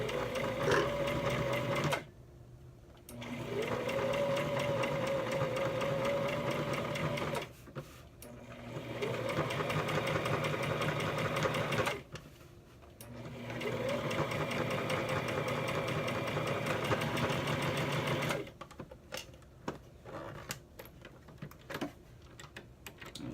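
A sewing machine stitches a zipper onto denim in three long, steady whirring runs separated by short pauses, loud and close with no talking.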